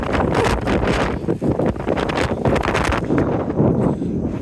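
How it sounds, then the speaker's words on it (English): Strong gusts of wind on a mountain buffet and roar across the microphone in continuous, loud rushes with rustling bursts, no voices. "Gusts of wind come out of nowhere and absolutely send you."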